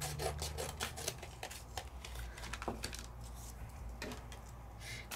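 Scissors or a trimmer cut through a piece of craft card, giving a series of close, quiet rasping and rubbing strokes in an irregular rhythm with small clicks, no voices.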